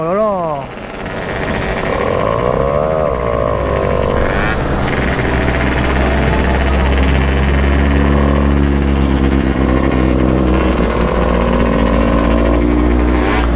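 A Mobylette moped engine idles close by at a steady, loud, buzzing pitch that wavers slightly, with voices talking over it.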